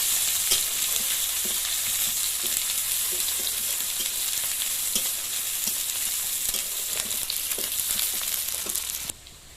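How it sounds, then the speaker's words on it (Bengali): Sliced onions fry in hot oil in a wok, a loud continuous sizzle with occasional stirring scrapes, ending abruptly near the close. "তেলের মধ্যে পেঁয়াজ কেটে দিলাম, পেঁয়াজটাকে লাল লাল করে ভেজে নিতে হবে"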